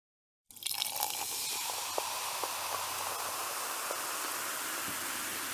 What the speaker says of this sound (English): The soda fizzed as she poured it.